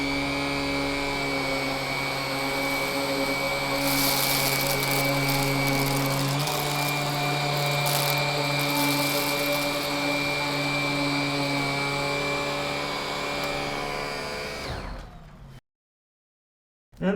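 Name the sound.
Cordless Henry vacuum cleaner with Wessel Werk EBK250 head on carpet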